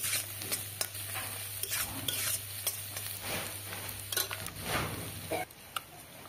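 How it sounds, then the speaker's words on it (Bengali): Onion and whole garlic cloves sizzle steadily in hot oil in a pan, with frequent close scraping and clinking of a spatula as the mixture is stirred. "পেঁয়াজটা একটু ভাজা ভাজা হয়ে গেছে। কয়েকটা রসুন আমি এখানে গোটা গোটা দিচ্ছি"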